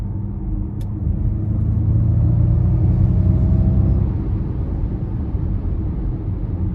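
A smooth synthetic whine from a 2021 Ford Mustang Mach-E Premium's artificial electric driving sound rises gently over the low rumble of the car moving along, steady and moderately loud, with no talking.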